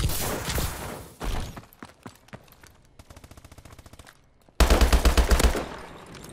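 Automatic weapon fire in the multiplayer shooter Call of Duty: Advanced Warfare, loud close bursts and single shots with short gaps, ending in a heavy rapid volley.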